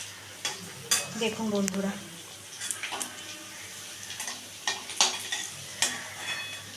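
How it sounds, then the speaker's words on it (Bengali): Egg cutlets fry in a pan with a steady sizzle, broken by sharp scrapes and taps of a utensil against the pan, while a voice speaks briefly near the start. "দেখুন এইরকমভাবে আমি বাকি কাটলেটগুলো সব ভেজে নিচ্ছি।"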